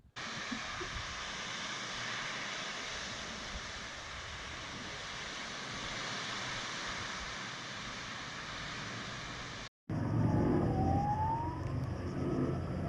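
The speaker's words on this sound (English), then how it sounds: "It's like being in a war zone with all these planes flying around, sirens going off." Wildfire scene in Karavados, Kefalonia, with a broad continuous roar of aircraft overhead and distant sirens, steady and loud throughout, cutting to a similar noisier stretch near the end.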